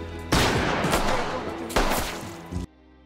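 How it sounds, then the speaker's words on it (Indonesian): Heavy gunfire rings out in a film scene of police officers shooting down an armed robber who fired at them, two dense bursts of rapid shots, loud and close, ending abruptly in silence. "Hal yang sama terjadi kepada Bob yang ditembak mati Abasi karena melepaskan tembakan ke arah petugas yang akan menangkapnya."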